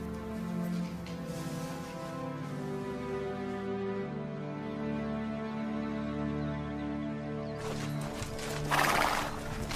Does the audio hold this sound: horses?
yes